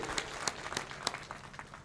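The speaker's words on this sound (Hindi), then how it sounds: "और मैं चाहता हूं एक बार जोरदार ताली बजाएं" An audience at a political speech during Bihar election campaigning claps loudly, a brief dense burst of applause with sharp individual claps standing out.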